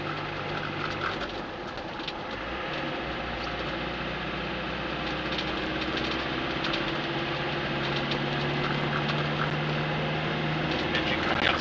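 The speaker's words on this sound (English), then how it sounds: "Engine coming up to temperature now." A Land Rover Defender 90 300Tdi diesel engine idles while warming up, a low continuous rumble with a faint droning hum and no talk over it.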